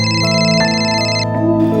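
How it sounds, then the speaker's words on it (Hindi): A phone ringtone plays loud and close, a bright electronic melody of sustained tones shifting pitch in steps, heard alone without talk. "लो, शरद का फोन है"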